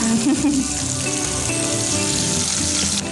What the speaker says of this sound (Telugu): నూనె కూడా వేడెక్కింది కదా. వేడెక్కింది కాబట్టి సో వేసేస్తున్నాను.